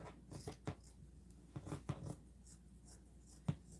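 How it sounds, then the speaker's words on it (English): Scissors snipping out fabric pieces for a handmade snowball doll, a few quiet, scattered cuts and rustles at close range with no talking. "So I'm going to cut these out larger than they are supposed to be."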